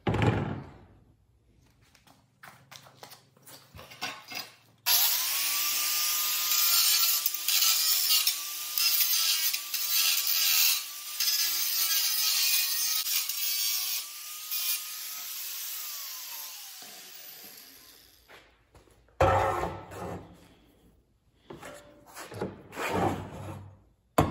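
Power tool cutting a piece out of a DIY trail camera lockbox, a sustained whining buzz for about twelve seconds, framed by scattered knocks and handling noises before and after.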